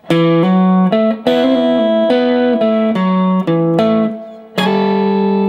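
A slow major blues guitar lick played clean and alone, separate plucked notes ringing out with bends and sustained tones.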